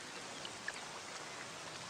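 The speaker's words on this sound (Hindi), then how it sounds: "बारिश रुकने का वेट कर रहा हूँ" Steady rain falling in a drama scene, a soft, even hiss with a couple of faint drip ticks and no voices.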